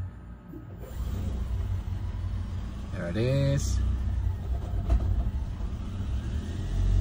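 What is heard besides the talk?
car engine starting after fuel injection service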